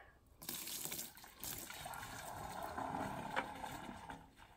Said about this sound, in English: Let's go ahead and put this water back in there.